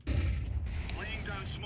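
Gunfire and a grenade blast in a tactical shooter game, a heavy boom and rumble followed by short bursts and pings, with some voice chatter over it.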